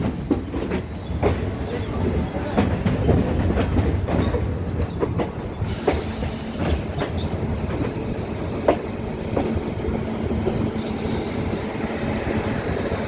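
A Howrah–Dhanbad Black Diamond Express passing on the line in India, its wheels clattering in a steady, continuous rumble close by, with no voices over it.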